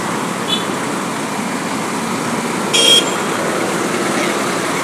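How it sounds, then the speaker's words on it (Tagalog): Heavy road traffic on the NLEX expressway near Valenzuela City, with a steady close roar of vehicles and a short car horn toot partway through. "Tapos pagdating dito, ayan o, traffic. Sobrang traffic dito."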